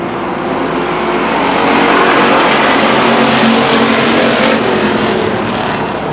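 Stock cars race at Stockton 99 Speedway in 2001, a dense, continuous roar of engines that stays loud and swells slightly in the middle as the pack drives down the backstretch into a turn.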